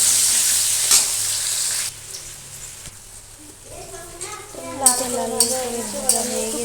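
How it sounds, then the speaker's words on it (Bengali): Potatoes frying in a pan for a Bengali egg, potato and cauliflower curry, a steady bright sizzle that drops, then swells again as something is added, with a voice talking over it. "আলুটা ছেড়ে দিলাম ছেড়ে দিলাম আলুটাকে ভালো করে লাল লাল করে ভেজে নেবো"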